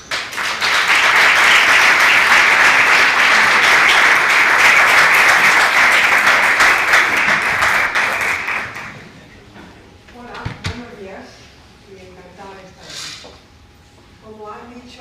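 A lecture audience at a semiconductor industry talk breaks into loud, dense applause that holds for about nine seconds, then quickly dies away into a few scattered knocks and a speaker starting to talk.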